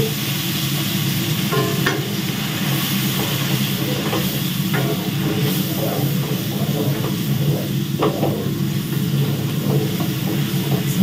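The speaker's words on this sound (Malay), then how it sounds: "Okey, sahabat-sahabat ni kita tumis ya." Spices sauté (tumis) for beef rendang, a loud, continuous, close sizzle with rhythmic scrapes and clacks of stirring throughout.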